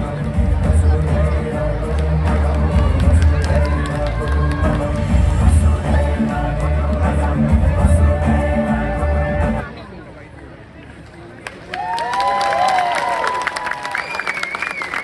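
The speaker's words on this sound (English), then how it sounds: "Round of applause for the region of costumes of India." Festival crowd at an Indian cultural event applauding and cheering loudly and steadily for about ten seconds, then dropping to quieter murmuring before a voice and some tonal sounds return.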